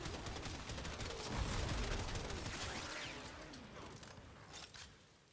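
Rapid weapon fire from the Sato in the video game Warframe, a dense rattling burst of shots with whooshing effects, loudest midway and then fading at the end, with no speech.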